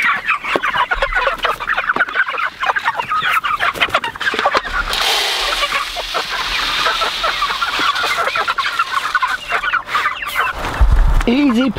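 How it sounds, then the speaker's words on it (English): Chickens clucking and squawking throughout, a busy flock close by, with occasional louder calls and some rustling. "You keep some barred rock chickens in with them"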